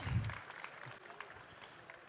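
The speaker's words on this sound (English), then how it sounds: "another big round of applause for our Gundam Card Game Regional Champions" Applause from an audience at a Gundam Card Game regional championship, a short burst of clapping that quickly fades under a speaking voice.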